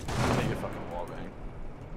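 A single one-tap gunshot in the tactical shooter Rainbow Six Siege cracks loud and close at the start, then a short reverberant tail fades over a couple of seconds beneath a player's talking.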